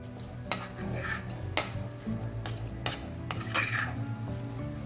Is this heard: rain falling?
no